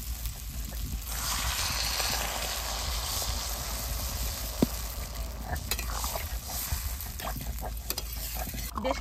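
Vegetarian raw jackfruit and potato pieces are turned in a frying pan, a steady sizzle with soft repeated scraping of a spatula, close by, plus one sharp clink midway.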